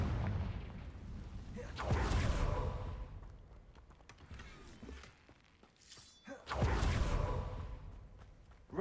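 Confringo blasting spell explosions from Hogwarts Legacy, two loud broadband booms a few seconds apart with crackling debris and rumbling decay between them.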